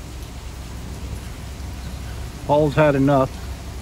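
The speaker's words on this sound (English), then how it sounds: "It's still raining and lightning" Steady rain falls in a thunderstorm beneath the Copano Causeway Bridge: a constant, even hiss of rainfall throughout, with someone briefly speaking near the end.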